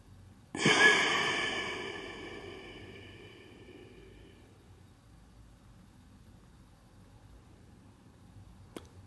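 A single long, breathy exhale into a cupped hand swells quickly, then fades slowly over several seconds into near silence, close and fairly loud, with no speech.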